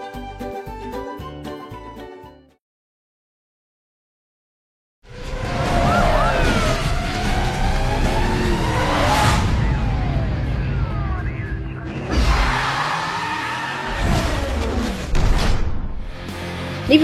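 Need for Speed Most Wanted open-world racing gameplay with a police chase: loud, continuous engine roar and wailing sirens with sweeping pitch, broken by a short silence after some music, then rising again with skids.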